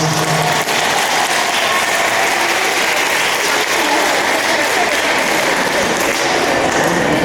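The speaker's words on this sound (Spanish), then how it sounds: "Fuertes aplausos para ellos" Loud, sustained applause from a church congregation for newlyweds at a wedding Mass, a dense wash of clapping filling the space without break for several seconds.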